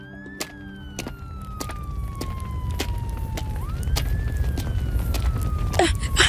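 Distant sirens wail in long, slowly falling and rising sweeps over a rumbling, windy background with scattered knocks, growing a little louder toward the end.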